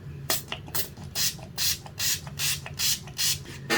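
Wet n Wild Natural Finish makeup setting spray is pumped in a rapid series of about eight short, hissing mist bursts close to the mic, each preceded by a faint click of the nozzle.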